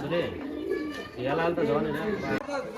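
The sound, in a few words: pigeons cooing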